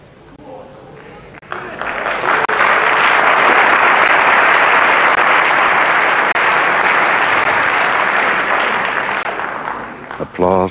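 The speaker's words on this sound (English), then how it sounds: "Applause, but it's not quite there." Crowd applause rises at a televised Scottish football match, a broad roar of clapping and cheering swelling after a quiet opening and holding loud and steady before cutting off at the end.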